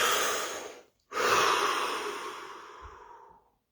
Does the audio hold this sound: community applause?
no